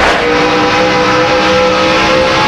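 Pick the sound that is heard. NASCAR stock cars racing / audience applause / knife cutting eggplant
NASCAR stock cars racing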